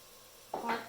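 Chopped ginger and green chillies hit hot fried masala in a pan for chana pulao, producing a sudden close sizzle that swells and hisses after a quiet moment.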